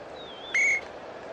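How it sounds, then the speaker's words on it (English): Referee whistle in the basketball video game NBA 79: one short, shrill electronic tone stopping play, sharp and close after a faint thin gliding note over a steady background hiss. "The whistle blows."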